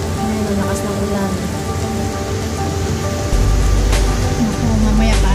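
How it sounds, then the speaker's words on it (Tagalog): Heavy rain pours steadily in Hong Kong during a thunderstorm, a loud, close hiss of drops on surfaces with a low rumble swelling partway through, as someone talks over it. "oh, ang lakas ng ulan"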